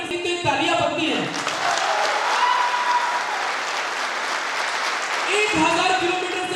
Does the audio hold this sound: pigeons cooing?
no